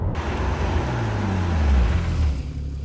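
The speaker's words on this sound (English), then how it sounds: "Using the paddle shifts, shifting down, and whoa, away we go." A 2013 Porsche Cayman S with PDK gearbox accelerating hard after a paddle-shift downshift, a deep engine drone rising steadily in pitch and loudness, heard from inside the car with no talking.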